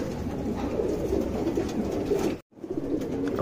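Tournament flying pigeons coo steadily at close range, a dense continuous murmur of soft throaty calls broken by a brief gap before the cooing resumes.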